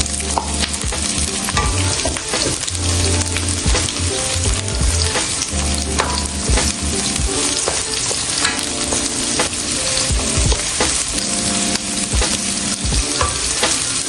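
Garlic and onion sauté in oil with a dense, loud, close sizzle, crackling and clattering continuously as the pan is stirred.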